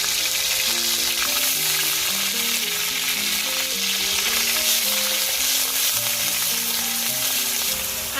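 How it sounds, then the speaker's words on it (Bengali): Ginger and garlic paste fries in a pan for egg korma, giving a steady, dense sizzle that carries on without a break. Soft background music plays beneath it. "আদা বাটা রসুন বাটা রসুন ভালো করে ভেজে নেবো যাতে এতে কাঁচা গন্ধটা না থাকে"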